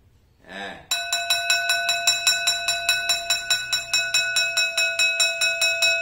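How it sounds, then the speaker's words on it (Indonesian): A metal bowl partly filled with water is struck over and over in a fast, even series of ringing tings with a steady lowered pitch, each sustained into the next, after a brief sound at the start. "Mangkok yang kosong bila mana diisi dengan air maka suara menjadi rendah"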